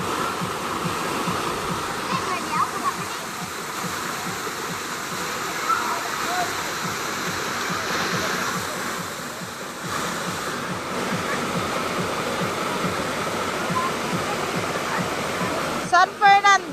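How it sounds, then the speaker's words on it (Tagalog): Water of the Imbang River flowing steadily, a continuous broad rushing wash heard close and fairly loud throughout, with a few brief knocks near the end. "The Imbang River."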